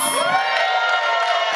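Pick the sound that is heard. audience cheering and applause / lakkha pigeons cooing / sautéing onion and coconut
audience cheering and applause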